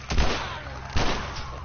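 Two pistol shots ring out in a video game, booming and close, with a short reverberant tail after each.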